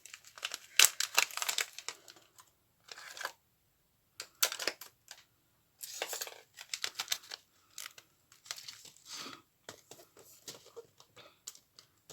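A transparent plastic notebook cover decorated with sequins is handled and opened, producing close, intermittent crinkling and rustling in short bursts separated by brief pauses, with no talking.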